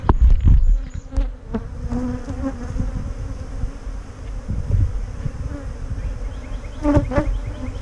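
Honey bees hum densely and continuously around a nucleus hive, loud and close, with occasional sharp knocks and clicks from handling the hive frames.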